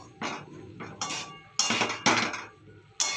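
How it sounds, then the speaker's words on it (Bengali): A lid goes onto a cooking pot of salted cauliflower with turmeric, producing a series of close, sharp metallic clanks and rattles in uneven bursts, with brief quiet gaps between them. "এবার ঢাকা দিয়ে দিয়ে করব।"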